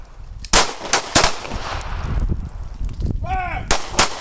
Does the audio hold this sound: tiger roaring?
no